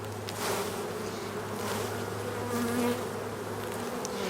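Honey bees buzz loudly and continuously at close range as they are shaken off a hive frame, a dense droning hum with steady pitch.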